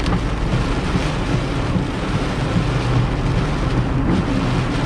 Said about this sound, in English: The storm is really here, or it's close by.